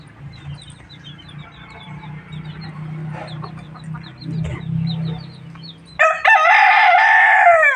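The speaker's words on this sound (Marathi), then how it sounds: "कोंबडा बरटते आमचा" A village rooster crows loudly and close at the end, after several seconds of low rumbling background noise and faint bird calls.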